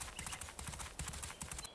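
Horse hooves clip-clopping during show jumping in a horse riding video game, a quick steady rhythmic canter of soft thuds with bright clicks, fairly faint and continuous.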